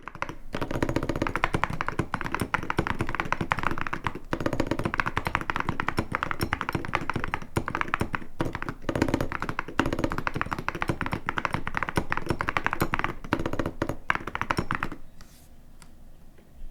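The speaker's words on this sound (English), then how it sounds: "So that's what the keyboard sounds like now with those metal keycaps." Rapid, steady typing on a Wooting 60HE keyboard fitted with metal keycaps, dense close-up taps and clacks running continuously for about fifteen seconds before stopping, with no voices.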